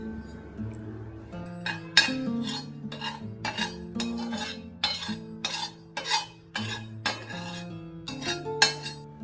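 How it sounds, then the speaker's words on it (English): Mustard and fenugreek seeds dry roast in a small tadka pan on medium heat, stirred with a metal spoon that clinks and scrapes in irregular taps over soft background music. "add half teaspoon mustard seeds and half teaspoon fenugreek seeds and dry roast them on medium"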